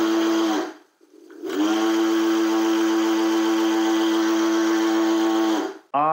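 A Segway Ninebot G30P kick scooter's electric motor, rear wheel lifted, whines at high speed, briefly cutting out and spinning back up, then running steadily with a harmonic, buzzing hum before stopping.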